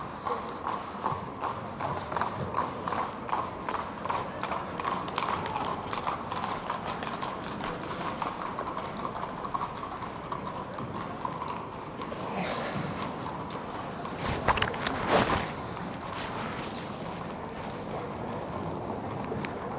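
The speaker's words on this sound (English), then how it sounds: "Horse and carriage." Horse and carriage clip-clopping along a Vienna street, steady hoof beats running throughout amid outdoor ambience and light wind, with a brief louder burst near the end.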